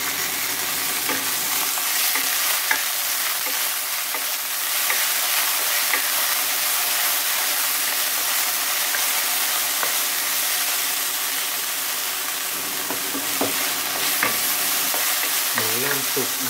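Instant noodles and pork stir-fry loudly in a pan at home after a splash of water goes in, with constant close sizzling and repeated spatula scraping and tossing throughout.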